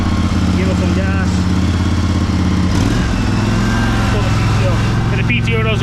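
A cheap used riding lawnmower engine runs loud and steady with its PTO mower blade engaged, a close, throbbing drone that never lets up while a person talks over it.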